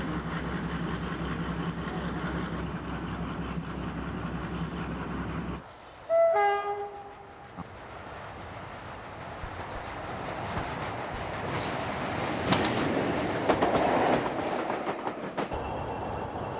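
A British Rail mainline diesel locomotive thunders past with a steady rumbling roar, sounds a short two-tone horn midway, then continues with rolling wheel clatter and engine noise, loud and close throughout.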